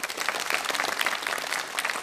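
Studio audience at a televised quiz show breaking into applause, a busy, even patter of many hands clapping together for the whole stretch, fairly close and without voices over it.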